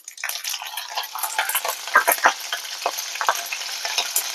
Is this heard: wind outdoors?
no